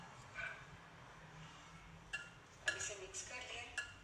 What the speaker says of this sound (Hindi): अच्छी तरह से इसको हम मिक्स करेंगे सब चीज़ों को, और इस तरह से मिक्स करेंगे कि ये बिल्कुल क्रुम बन जाए